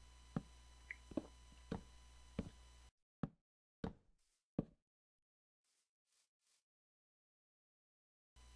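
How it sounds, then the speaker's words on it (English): Hollow wooden knocks as a door frame is placed while building a dugout shelter in the video game TerraFirma: a handful of sharp, close taps over a low hum, then a few isolated thuds and faint clicks before near silence. "Finally, we place the door frame."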